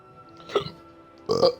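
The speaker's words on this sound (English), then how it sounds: "I like hiccuped and then burped like back to back" A person gives a short hiccup and then, about three-quarters of a second later, a longer, louder burp, back to back and close up.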